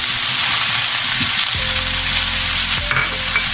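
Maggi noodles with capsicum and cabbage stirred in a hot frying pan, a loud continuous sizzle with scraping from the stirring and a low hum underneath.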